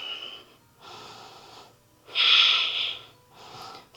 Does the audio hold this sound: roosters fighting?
no